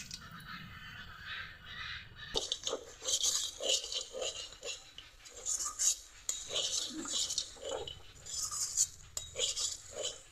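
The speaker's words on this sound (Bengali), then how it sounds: "মটরশুঁটি আলু বাদাম একসঙ্গে ভালো করে কষিয়ে নিলাম" A spoon stirs peas, potatoes and peanuts in a pan, giving repeated bright scraping and clinking strokes in uneven bursts, close and fairly soft, with quiet background sound between.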